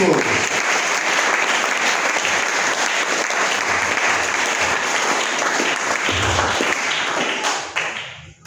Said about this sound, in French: Au nom de nous acclamons Jésus-Christ